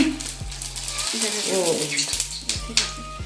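Oil sizzles and spatters in a hot wok over a gas flame with a steady hiss and sharp crackles, loud and close, while a voice talks over it.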